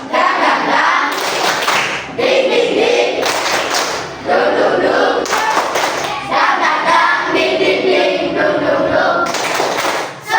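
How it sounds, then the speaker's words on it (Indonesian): A class of primary-school children clapping hands together in a classroom, loud dense bursts of applause in several rounds separated by brief pauses, with voices mixed in. "kita tepuk tangan dulu ya, biar suasananya cair ya"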